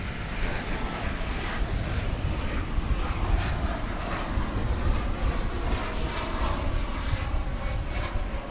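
American Airlines Boeing 737-800 landing at Dallas/Fort Worth at night, a steady loud broadband jet roar that holds through the whole stretch without pause.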